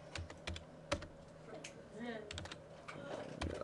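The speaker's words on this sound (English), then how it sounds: "I can go ahead and type in my actual data" Keys being typed on a computer keyboard while entering data into a database form, quick irregular clicks in short bursts with some faint talk mixed in.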